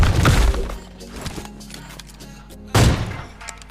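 Gunfire from a shooter video game marks a headshot: a loud burst of shots at the start, then quieter game noise, and another sharp loud shot near the end.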